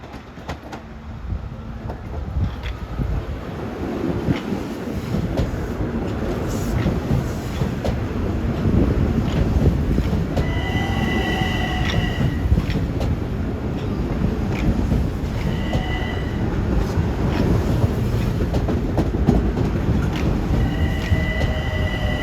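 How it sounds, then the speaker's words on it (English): Long Island Rail Road commuter train rolling into a Montauk Branch station on a snowy winter day, a steady loud rumble of wheels on rails with repeated high brake and wheel squeals as it slows. "6032 is arriving on track number 3."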